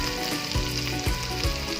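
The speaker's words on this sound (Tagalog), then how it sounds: "iya nang gigisa ang mga lamas ug uban pang ingredients" Spices and ingredients for pork sisig sautéing in a pan, a close, continuous sizzle with three regular spatula scrapes against the pan.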